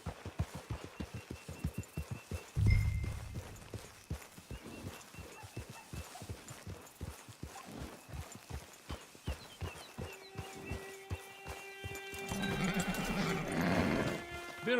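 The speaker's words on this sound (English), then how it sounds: "Get your horse." Horse hooves galloping in Red Dead Redemption 2, a rapid, even run of hoofbeats across the whole stretch, with a brief heavier thump early on and game music swelling in toward the end.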